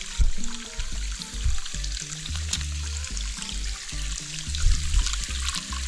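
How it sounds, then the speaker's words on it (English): Water trickles steadily over a cement-like rock formation at Hill Brook Falls in Economy, Nova Scotia, on a low-flow day, a continuous close wash of splashing with low rumbling underneath. "Not much water flowing, but"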